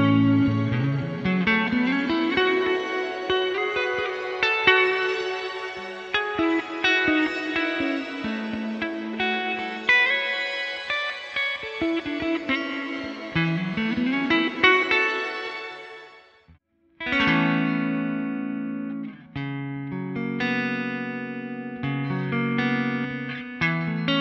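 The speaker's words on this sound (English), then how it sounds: "You can adjust those shimmer tones to really hone in the kind of shimmer sound that you want." A Line 6 Helix shimmer reverb on guitar: picked notes bloom into bright, pitch-shifted octave trails that sustain and swirl, then a pause and fresh chords ringing out with the same glistening wash.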